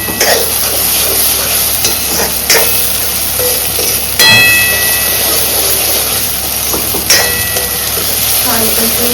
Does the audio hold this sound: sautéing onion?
yes